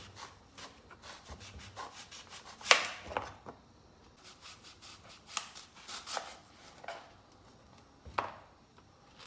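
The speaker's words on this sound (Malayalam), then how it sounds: "ആപ്പിൾ പാൻ കേക്കിനുള്ള ആപ്പിൾ കട്ട് ചെയ്യണത് റൗണ്ടായിട്ട് കട്ട് ചെയ്യണം" A knife cuts an apple into thin rounds for apple pancakes. Dozens of quick, crisp slicing and chopping strokes land on a board in an uneven rhythm, close but soft, with a few louder thuds.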